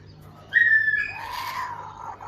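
A clear, fluting whistle rings out, followed by a warbling, lower call, butcher birds calling close and loud against a quiet morning background.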